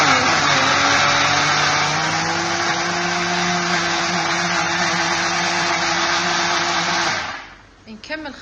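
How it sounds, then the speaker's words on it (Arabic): An electric blender whirs loudly and steadily, churning a frozen Azbari drink mixture for about seven seconds before cutting off, followed by faint clatter. "هسه راح ارجعه بالخلاط واخلطه مره ثانيه، احطه بالخلاط كله وارجع لكم. وهنا راح نبلش نخلط"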